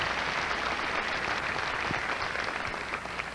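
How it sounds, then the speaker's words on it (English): A theatre audience at a 1994 Miss Kentucky pageant applauds the stage crew, with dense, sustained clapping that holds steady and fades a little at the end. "Why don't we give them all a big round of applause?"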